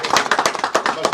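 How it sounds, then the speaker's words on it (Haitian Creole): Live audience applause at a Haitian political gathering, a dense burst of close, sharp hand claps rising and falling in quick uneven pulses. "On applaudit ça."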